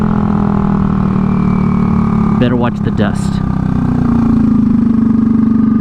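A Honda Ruckus scooter engine, running with no air filter on its carburettor, idles steadily and evenly close by with a constant low hum, while someone speaks briefly over it.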